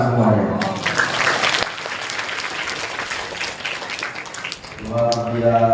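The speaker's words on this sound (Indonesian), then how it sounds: "Tepuk tangan semuanya." Applause from an audience at a religious gathering at an Islamic boarding school in Medan, a dense wash of clapping filling the middle seconds between stretches of someone speaking at the start and end.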